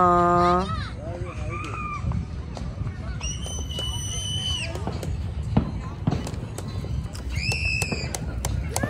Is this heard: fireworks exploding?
yes